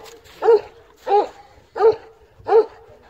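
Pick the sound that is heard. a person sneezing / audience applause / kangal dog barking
kangal dog barking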